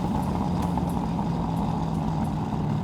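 A 2002 Chevrolet Corvette Z06 engine revs hard at high RPM, a loud, steady, unbroken roar that holds for about three seconds with no voices over it.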